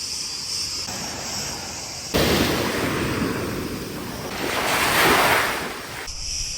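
Sea waves wash onto the shore at Almyrida, Crete, with loud rushing surf that surges and recedes, mixed with wind buffeting the microphone.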